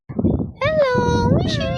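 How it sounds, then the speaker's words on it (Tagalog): Several cats meow near a busy harbor lined with boats, one clear, drawn-out cry rising and falling over background chatter, with a voice audible nearby. "Ayan, daming pusa guys."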